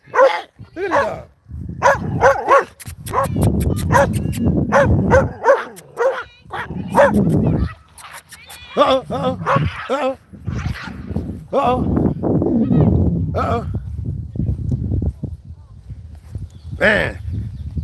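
A small dog barks in short repeated yaps during an outdoor walk, the barks mixed in with close, steady talking from a man nearby.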